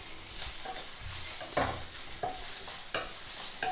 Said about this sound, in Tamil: பாருங்க, நம்ம கத்திரிக்காய் நல்லா வதங்கிருச்சு